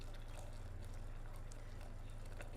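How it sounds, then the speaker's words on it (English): Water poured into a pot to about half full for making chai, a faint steady trickling and splashing over a low background rumble. "I'm going to put water to about half the pot"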